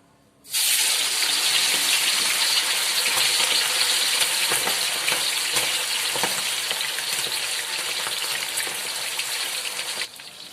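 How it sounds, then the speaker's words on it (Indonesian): Garlic chicken pieces fry in hot oil over lowered heat, a loud, steady crackling sizzle that starts abruptly and runs unbroken for about ten seconds, with no voices. "Dan siap kita goreng."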